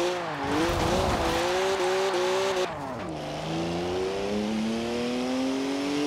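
A stock 2011 BMW 1 Series M Coupe drifts in Forza Horizon 4, its engine droning loudly with shifting pitch, dipping and then climbing steadily as it revs, alongside a continuous hiss of squealing tyres.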